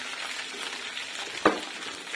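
Kachnar flower buds fry gently in oil over low heat, giving a soft, even sizzle with one sharp clink of a utensil midway; close, quiet and without speech.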